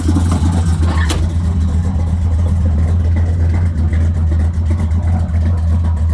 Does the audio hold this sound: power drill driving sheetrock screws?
no